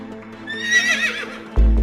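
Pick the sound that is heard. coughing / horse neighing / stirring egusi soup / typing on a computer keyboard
horse neighing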